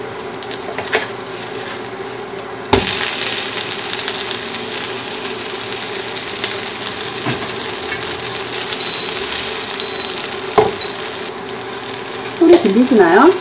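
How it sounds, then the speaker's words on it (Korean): Korean chive pancake with dried shrimp and breadcrumbs frying in a generously oiled pan, giving a steady close crackling sizzle throughout with a few sharp clacks and bumps, and no talking. "소리 들리시나요? 엄청 바삭하게 잘 구워졌네요."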